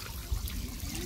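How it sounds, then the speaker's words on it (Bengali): A small park fountain trickles with a soft, continuous wash of running water, faint and steady with no voices. "পার্কের ভিতরে একটা ছোট্ট ঝর্ণার মতো করে দেওয়া আছে, একটা ফাউন্টেন।"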